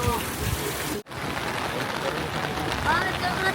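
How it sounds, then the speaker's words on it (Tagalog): Heavy rain pours down at a sheltered rest stop with toilets during a Taiwan tour, a steady close hiss with a brief dropout near the start. "Inabutan na kami ng malakas na ulan."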